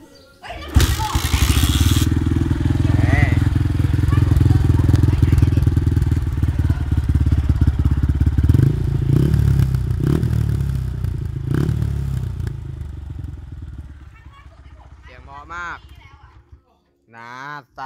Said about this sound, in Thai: ผมสตาร์ทขอฟังเสียงท่อหน่อย